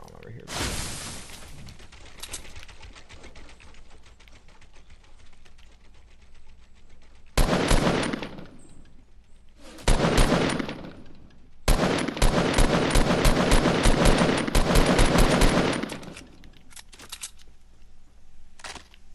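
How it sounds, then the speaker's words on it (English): Gunfire in the Fortnite video game: loud bursts of rapid shots in several clustered volleys, with quieter stretches of game noise between them. "Where's this dude shooting at me from?"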